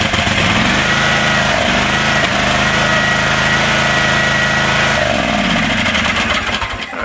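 A Wright Stander mower engine running after a starter repair, a loud steady rumbling idle that dips slightly in tone partway through and begins winding down near the end.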